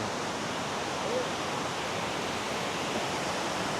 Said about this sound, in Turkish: Bak şelalenin nasıl Bak, serinlisi geliyor.